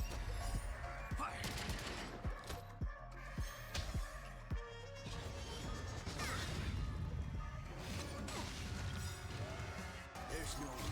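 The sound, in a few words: gunfire in a video game scene (Penacony)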